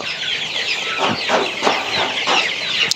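Several 35-day-old Sonali hybrid chickens clucking and murmuring together on a farm, close and continuous, with overlapping calls and no talk.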